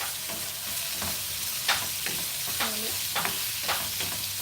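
Vegetables stir-frying in a pan with soy sauce, coriander powder and salt, giving a steady close sizzle with scraping stir strokes and occasional clinks of a spatula against the pan.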